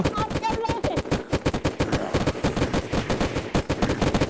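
Rapid bursts of gunfire from the zombie-wave shooter game Unturned, dense repeated shots in quick succession throughout, loud and close, with brief gaps between volleys.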